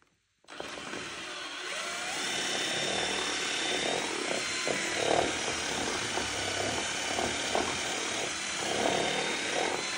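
A power drill boring holes for the heated seat wiring on a KTM 1290 motorcycle, a steady high whine running continuously after a brief silent start, loud and close with slight pitch shifts.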